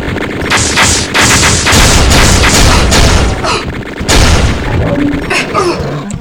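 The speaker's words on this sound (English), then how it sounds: "That's the sound I don't want to hear. There is one enemy that is particularly devastating to me at this state. That is the chain gunner." A chaingunner enemy firing its chaingun in the video game Doom 2, loud rapid continuous bursts of gunfire close up, broken by brief pauses and heavy booms.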